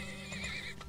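A horse in the Turmoil oil-drilling game gives a short, brief whinny, close and clear, alone over a faint background hum.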